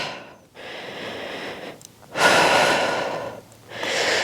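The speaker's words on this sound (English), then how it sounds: "We're breathing in through our nose, out through our mouth" Slow breaths drawn in through the nose and pushed out through the mouth during an intermediate Pilates reformer core session, heard as three close, airy swells with short pauses between them and no talking.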